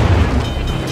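Heavy naval guns on a dreadnought in a warship battle game boom and crash, a loud, dense low rumble of artillery fire with a lingering roar.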